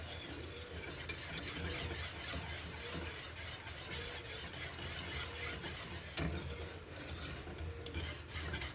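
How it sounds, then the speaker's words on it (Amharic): A spoon stirs a cream and flour mixture for a chicken béchamel, making soft, continuous, rhythmic scraping and swishing strokes close by, fairly quiet, with no talking. "እንዳይጓጉል በደንብ መተዋለሁ ማለት ነው።"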